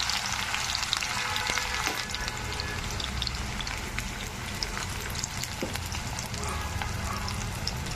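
Onions frying in hot oil in a pan for chicken curry give a dense, even crackling sizzle that holds steady and close throughout, with a few faint clicks and no voices.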